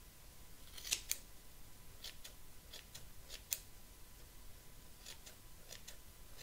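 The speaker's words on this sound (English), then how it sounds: "you can see just a bunch of little snips" Scissors snipping hair during a child's haircut, a handful of crisp, quiet snips spaced irregularly, with two sharper cuts standing out near the start and middle against a soft background hush.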